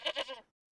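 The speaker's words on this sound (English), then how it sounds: "Goat." A goat gives one short, wavering bleat made of quick pulses, clear and close, followed by silence.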